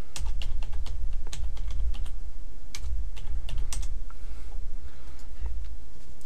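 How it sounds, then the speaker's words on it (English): Password being typed on a computer keyboard: a steady run of close, crisp key clicks with short pauses between bursts, and no voices. "So we'll type the password here."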